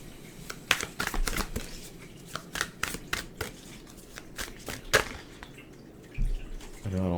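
Oracle cards being shuffled by hand, a run of quick crisp riffling snaps and slaps at close range, fairly loud against a low steady background hum, with no talking.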